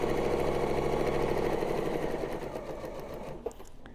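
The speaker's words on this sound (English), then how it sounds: "the needle is going to go up and down in the same position several times, okay, as I stitch 1, 2, 3, and now I can finish stitching" A sewing machine running a reinforcement stitch while making a Christmas table topper, heard up close as a rapid, steady mechanical hum and needle chatter that slows and stops near the end, followed by a small click.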